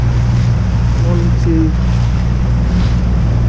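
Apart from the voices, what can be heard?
waves and wind while sailing a Laser dinghy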